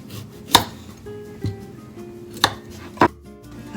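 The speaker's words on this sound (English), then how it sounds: "peel taro and cut them in half" A knife chops through peeled taro on a board, four separate sharp cuts with pauses between them, close and clear.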